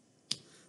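A single sharp clap or snap rings out once, fairly close and alone, keeping time with children singing the Bingo farm song.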